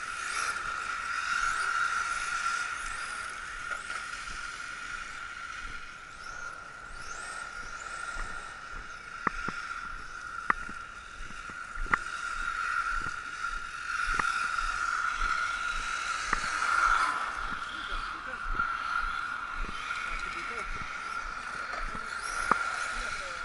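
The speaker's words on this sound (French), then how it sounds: "un petit essai du BXXL 8S, 1450 kV, tout petit pignon de 11" A Kyosho Scorpion B XXL 8S electric RC buggy with a 1450 kV motor and a small 11-tooth pinion runs gently around a track, giving a steady high-pitched motor whine at a moderate distance, broken by occasional sharp ticks and clicks.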